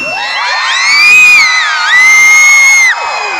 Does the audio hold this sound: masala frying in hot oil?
no